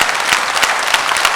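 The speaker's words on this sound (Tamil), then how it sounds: "பாருங்கய்யா, கரகோஷத்தை பார்த்தாலே தெரியலையா?" A dense, close burst of audience applause fills a hall during a speech at a public event, steady clapping with no voice over it.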